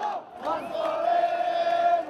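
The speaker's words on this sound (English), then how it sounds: "the crowd began celebrating" A crowd of protesters cheering and celebrating as police withdraw: a mass of voices shouting together, with one sustained high yell carrying over the roar for about a second.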